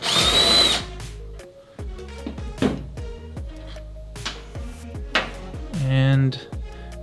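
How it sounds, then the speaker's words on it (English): A power tool is run in short bursts while removing the 10mm bolts holding a Toyota Tacoma tail lamp, loud whirring spurts close by, spaced out across the clip with quieter gaps between them. "The first step will be to remove both of these 10mm bolts."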